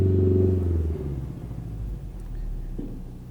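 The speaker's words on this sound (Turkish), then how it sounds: "böyle bir yapay motor sesi oluyor." A low, synthetic engine hum from the Renault Megane 4 R-Sound artificial engine sound drones steadily, swelling briefly at the start and then settling into a softer rumble for a few seconds.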